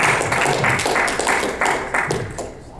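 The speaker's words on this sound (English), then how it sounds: "let's have a round of applause for Mark Schmitter." Audience applause at a talk on jury nullification, a dense burst of clapping from a crowd that stays steady and slowly fades over a few seconds.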